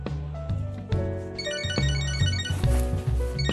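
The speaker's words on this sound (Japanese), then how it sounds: "電話か。" Phone ringtone in the video game Catherine: Full Body, a bright melodic electronic tune of repeated chiming notes over layered game music, loud and clear.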